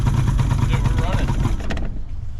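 A homemade boat's outboard engine runs with a steady low rumble for about a second and a half, then cuts out and leaves only faint background.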